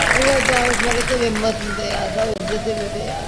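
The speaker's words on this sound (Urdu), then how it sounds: "ہماری اس ماں کے لیے ان کی عظمت کو سلام، بہت ساری تالیاں ہونی چاہیے" A studio audience applauds an elderly woman guest on a live Ramadan iftar show, scattered clapping running beneath a voice that carries over it the whole time.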